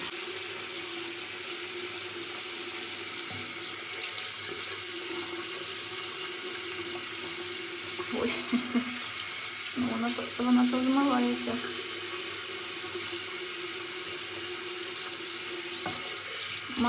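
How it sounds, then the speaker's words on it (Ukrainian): Hot water runs steadily from a sink tap, a constant close splashing hiss that carries on throughout, with a few brief bumps and clatters partway through. "Зараз я включу гарячу воду і спробую гарячою водою."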